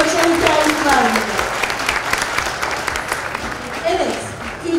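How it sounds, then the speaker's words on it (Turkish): Audience applause at a Turkish panel event on women's empowerment in culture, arts and gastronomy: a steady wash of clapping through the whole stretch, with some voices talking over it. "Ve kuvvetli bir alkış istiyorum."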